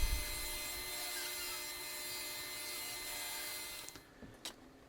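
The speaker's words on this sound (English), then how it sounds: "Couple of quick passes through the table saw. We'll rip out those two pieces for the side" A table saw rips red oak pieces with a steady, loud whining roar, then spins down and the blade noise fades, followed by a couple of faint knocks.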